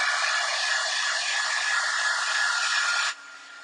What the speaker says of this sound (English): So I'm just going to dry this again because I don't want to smudge what I've already done.